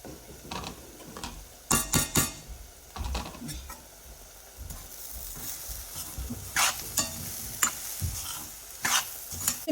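Banana flower and ground lentils for paruppu usili are stirred and sautéed in a pan, giving irregular scraping and clacking strokes over a light sizzle, with a few louder clattering bursts.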